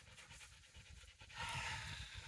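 A dog pants quickly and rhythmically at close range in a forest, the soft breaths faint and steady with a slightly louder burst midway.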